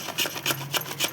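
Dried coconut rubbed against a hand grater in four even rasping strokes, each a short scratchy burst with pauses between, close and fairly quiet.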